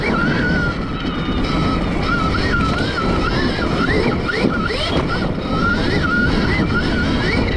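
A Varg dirt bike riding off-road, its drive whine climbing and dipping as revs build and fall, close and loud under steady wind rush.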